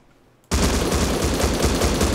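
Rapid automatic gunfire from a weapon in the video game Rust bursts in after a brief quiet moment, then runs as a loud, dense, continuous stream of shots to the end with no talking.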